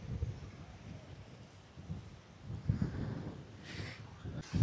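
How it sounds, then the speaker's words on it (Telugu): Strong wind blows at a dam viewpoint, buffeting the microphone in uneven low gusts that swell and fade, with a couple of louder bursts near the end. "you can see here the sound of the wind also I think"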